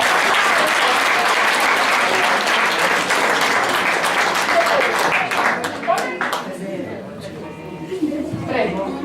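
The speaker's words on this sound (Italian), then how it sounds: "quindi un applauso va a loro" Sustained applause from a theatre audience thanking the actors after an amateur stage performance, dense clapping that thins and tapers toward the end, with voices murmuring through it.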